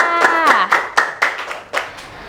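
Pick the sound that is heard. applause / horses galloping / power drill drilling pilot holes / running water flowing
applause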